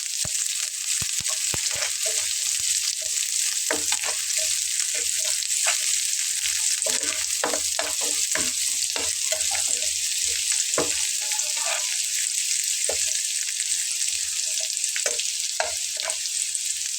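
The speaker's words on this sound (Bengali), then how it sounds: "তারপরে দিয়ে নিচ্ছি পেঁয়াজ কুচি করে নেওয়া। সবগুলো একসঙ্গে একটু নেড়ে নিচ্ছি।" Chopped onions and garlic frying and being stirred in a pan, a steady close hiss of sizzling oil with frequent spatula scrapes and clicks throughout, without talk.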